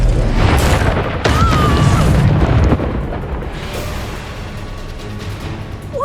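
Magical explosions from the Bombarda and Confringo spells in the Hogwarts Legacy video game: loud, rumbling booms and crashing bursts in rapid succession, dense in the first three seconds and then settling into a lower roar.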